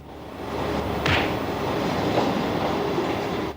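A tube train runs in the animated film Metropia, giving a steady, dense rumble of rails and wheels with a brief high squeal partway through, with no voices.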